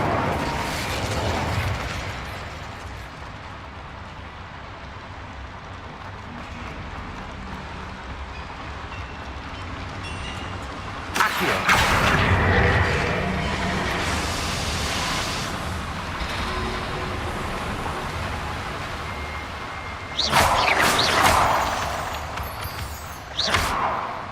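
Loud spell blasts in Hogwarts Legacy, including Confringo and Incendio, burst out around 11 and 20 seconds over a steady rumbling game soundscape, each a broad roaring hit that trails off.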